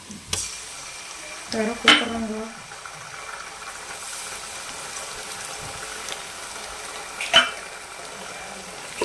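Ginger garlic paste sizzles in a hot pan while chicken biryani is being cooked at home, giving a steady low frying hiss with a few sharp stirring clinks near the start and later on, and occasional voices in the background.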